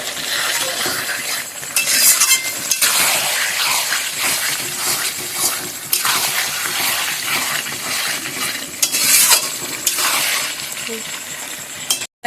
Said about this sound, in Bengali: শুধু কষাবো, দেখে রাখবো আর কষাবো।